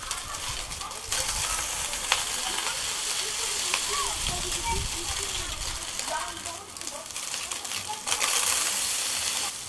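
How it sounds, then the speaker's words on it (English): Smashed beef burgers frying in olive oil on a braai griddle plate give a steady, dense sizzle with crackles and small pops throughout, close and fairly loud. "on my griddle plate and we're now going to put on some olive oil, put on the burgers"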